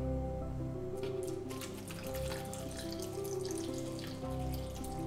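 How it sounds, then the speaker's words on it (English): Water poured into a blender jar for a home cold and flu remedy, a steady splashing and trickling over a constant low hum throughout, with no talk. "we're gonna go ahead and put a little bit of water inside"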